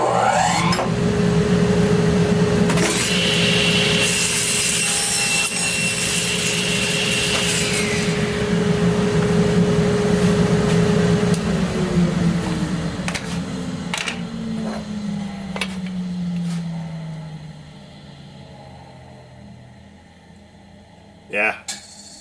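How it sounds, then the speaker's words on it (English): Table saw making a test cut on a wood cross-cut miter sled: a loud sustained whine and cutting rasp for about eleven seconds, then the blade spins down with a falling pitch and fades, ending in a couple of soft knocks. "I'm going to flip this back over and we'll do a test cut."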